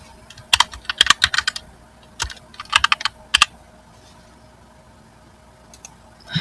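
Clicking keys on a computer keyboard in quick bursts of close, crisp taps separated by short quiet gaps, with a faint steady hum underneath and no talking.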